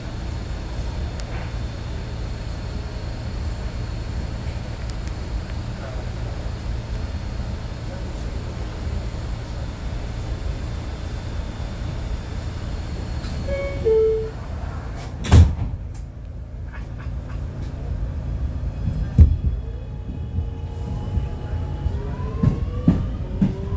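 Interior of an R211 subway car on a Far Rockaway bound A train: low rumbling track noise and propulsion hum, a loud clunk and thud midway, then rising and falling motor whine as the train moves, with brief announcement speech.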